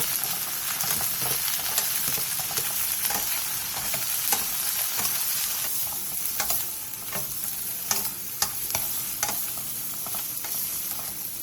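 Shishito peppers and garlic scapes stir-frying in oil over high heat, a steady close sizzle broken by scraping and clicking spatula strokes against the pan, with no talking.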